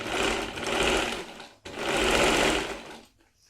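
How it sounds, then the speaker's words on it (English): A sewing machine stitches fabric for a yoke in two fast bursts of steady mechanical whirring, separated by a brief pause, then stopping. "Put your needle down, turn it, and then machine over here."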